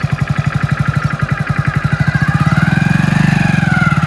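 A motorcycle engine thumps with a steady, rapid putter close by as a beginner rider practises turning, then its pitch rises slightly as it revs a little harder.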